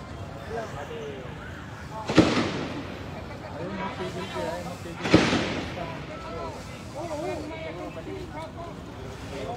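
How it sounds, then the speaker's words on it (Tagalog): Two sharp, loud gunshots about three seconds apart ring out amid busy outdoor noise and people talking during a shootout at Ever Gotesco mall. "sa narinig nyo, may mga putok pa na mga baril"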